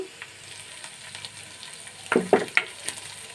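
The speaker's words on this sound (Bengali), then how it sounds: "এটা আমি লো হিটে 2 মিনিট রান্না করে নেব।" Potatoes cooking in a pan on low heat for chira polao give a faint steady sizzle, with a few louder stirring scrapes and clinks near the end; no one speaks.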